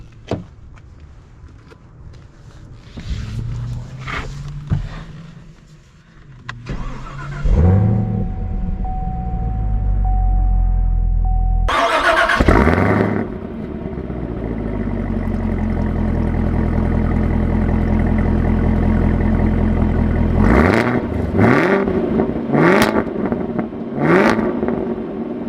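A 2020 Chevy Camaro ZL1 1LE: door and cabin sounds, then the engine cranks and catches with a loud roar, settles into a deep idle, and later surges through several sharp revs as the car pulls away.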